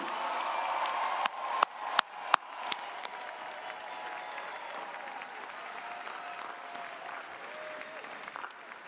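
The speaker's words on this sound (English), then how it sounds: "Please join me in a round of applause for our faculty" Applause from a commencement crowd at Emerson College honoring the faculty, sustained clapping in a large space with a few sharp, louder claps standing out near the start before the sound settles into a steady wash.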